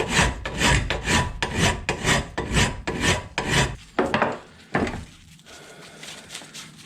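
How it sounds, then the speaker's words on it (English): A half round file rasps across metal clamped in a vise, with steady rhythmic back-and-forth strokes, loud and close, that slow into a few separate strokes near the end. "when it gets too hot to hold, then I just start filing it out with a half round"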